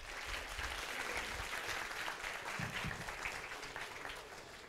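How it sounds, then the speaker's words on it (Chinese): An audience claps after a university lecture by a film director. The applause is dense and sustained, then tapers off slightly toward the end, and no voices are heard over it. "那我们再次给导演一个掌声好吗？"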